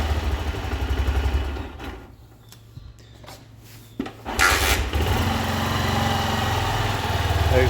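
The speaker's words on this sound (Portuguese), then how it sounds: "Aí o motor ficou bem silencioso." A cold Honda Titan 2000 motorcycle engine with the choke pulled, running on carburetor fuel, sputters and dips, then catches again and settles into a loud, steady, close-up idle.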